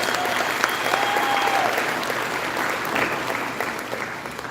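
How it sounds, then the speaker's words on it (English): Sustained applause from a large gala audience, dense and steady throughout with a faint whistle or cheer rising briefly above the clapping. "Give yourselves a round of applause."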